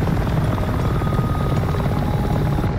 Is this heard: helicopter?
yes